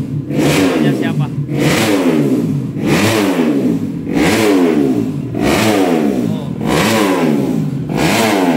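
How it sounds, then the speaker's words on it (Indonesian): A motorcycle engine in a repair workshop revs repeatedly in rhythmic, rising surges, loud and close, with voices talking over it. "Ada motor yang lagi dihidupin."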